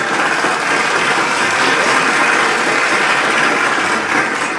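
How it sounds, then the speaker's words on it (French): Audience applause at a studio interview with rap artists, a dense steady wash of clapping that holds evenly for several seconds with no voices on top. "Applaudissements."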